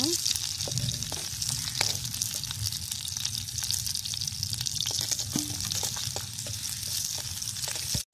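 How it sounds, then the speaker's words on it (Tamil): Onions frying with mustard seeds in a clay pot make a steady, dense sizzle and crackle that runs unbroken and close throughout, with a few faint scrapes. "கடுகு நல்லா பொரிஞ்சிருச்சு. அடுத்து நம்ம வெங்காயம் போட்டுக்கலாம்"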